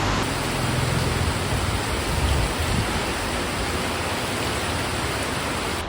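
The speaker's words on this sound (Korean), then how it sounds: "꽤 오래 기다렸는데 비가 그렇게 생각을 안 해요" Heavy rain pours steadily onto a city street in Cambodia, a dense, even wash of noise that fills the whole stretch without letup, with no voices over it.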